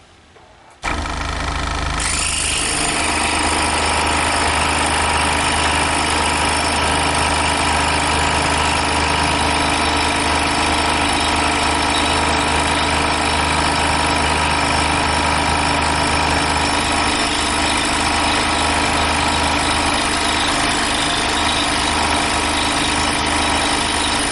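A scroll saw cross-cutting the 1.25 inch side of a wooden workpiece starts up with a sharp onset and then holds a loud, steady motor buzz with rapid blade chatter for the rest of the stretch, with no talking.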